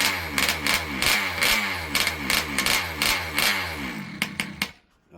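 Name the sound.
ALX 71cc engine warming up, trying to idle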